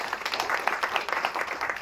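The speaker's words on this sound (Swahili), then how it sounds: "Apigiwe makofi tena." Funeral attendees clap together at a service, a quiet, scattered round of applause heard from some distance, with irregular hand claps overlapping steadily throughout.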